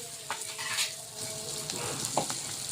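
Green chillies fry in a pan with a steady sizzle, broken by several scraping stirs of a spatula.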